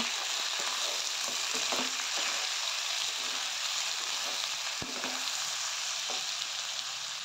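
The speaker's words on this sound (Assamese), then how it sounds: "এতিয়া বিলাহীখিনি অলপ গলি যোৱালৈকে আমি ভাজি থাকিব লাগিব" Close-up sizzle of tomatoes frying in a pan, a constant crackling hiss broken by occasional scraping and clicking from stirring.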